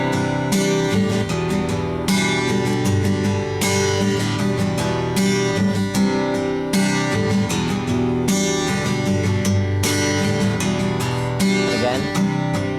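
Acoustic guitar plays the chorus chords of a song as one continuous progression, bright strummed chords ringing loudly without any talk.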